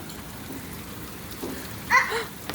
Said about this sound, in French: Ah, j'aime la pluie, moi